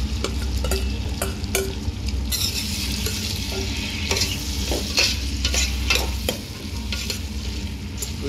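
Potatoes and carrots fry and sizzle steadily in a pan, with scattered scraping stirs and clinks throughout, close and fairly loud, and no talking.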